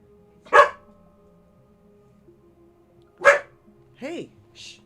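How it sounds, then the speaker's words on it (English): A dog barks nearby in a quiet room, two sharp separate barks followed by two softer whimpering yips. "Pardon my dog."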